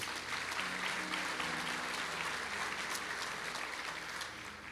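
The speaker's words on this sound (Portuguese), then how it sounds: "Dê um aplauso a ele." Audience applause fills a church seminary hall, a steady dense wash of many hands clapping at full volume for nearly five seconds before easing slightly at the end.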